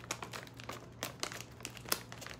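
A potato chip bag, a Taiwanese Hwa Yuan Royal Cream flavor, crinkles and rustles as it is handled close up, with sharp irregular crackles over quiet background hum.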